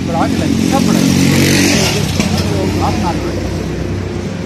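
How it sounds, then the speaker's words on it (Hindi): A 125cc CNG rickshaw engine runs steadily up close with a low, even rumble, while someone talks over it throughout. "ये सीएनजी रक्षे का इंजन लगा हुआ है 125 का"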